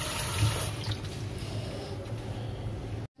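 Tap water runs steadily into a sink as pieces of duck meat are washed, a close, continuous splashing rush that cuts off abruptly at the end.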